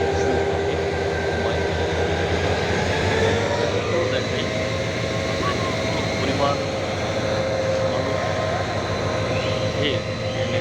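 A train rumbles past close by with a loud, continuous rolling roar and rhythmic clatter of wheels lasting the whole time.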